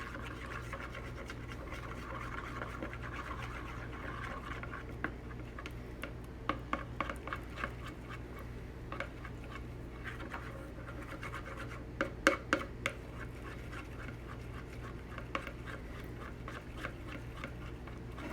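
A slime mixture is stirred, giving faint, sporadic scratchy clicks and soft scraping over a quiet background hum, with no voices.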